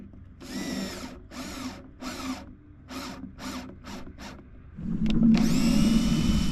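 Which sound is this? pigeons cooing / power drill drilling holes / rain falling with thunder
power drill drilling holes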